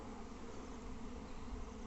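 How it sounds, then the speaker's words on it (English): A strong honeybee swarm settling into a Langstroth hive box, a faint, steady, dense buzzing hum of many bees with no voices. "This is a box that is about to get colonized by a very strong swarm."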